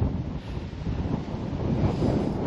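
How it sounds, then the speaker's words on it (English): Steady, loud wind buffeting a GoPro microphone outdoors beside a flooded dike, a continuous low rumble with gusty swells and no talk. "I don't know whether the GoPro's picking up the wind noise or not"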